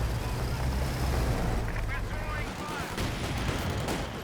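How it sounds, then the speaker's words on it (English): Mortar fire in the video game Company of Heroes 2, booming impacts and rumbling explosions amid a busy battlefield soundscape, moderately loud, with a commentator talking over them. "that's actually a second mortar from RyuJou"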